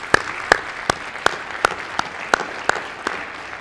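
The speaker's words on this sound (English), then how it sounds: "our inductees owe them a huge round of applause" Audience clapping at a National Honor Society induction ceremony, in honor of the inductees' parents and families: sharp, evenly spaced claps in a steady rhythm, fairly loud and close, with no talking.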